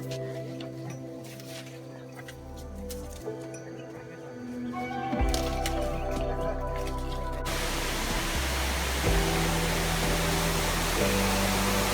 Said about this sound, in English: So we've just arrived at this waterfall.